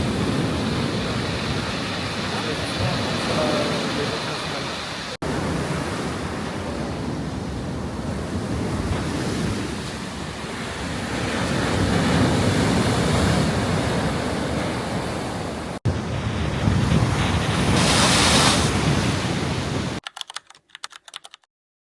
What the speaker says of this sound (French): Mais c'est parce qu'il y a les vagues.